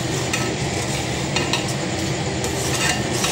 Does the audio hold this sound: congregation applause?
no